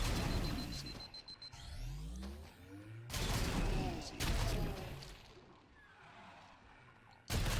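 A Halo sniper rifle fires in a Halo-themed Doom mod, its loud booming shots punctuating the game's chaotic mix of explosions and whooshing effects.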